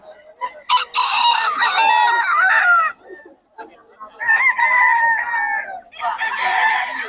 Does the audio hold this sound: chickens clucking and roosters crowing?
yes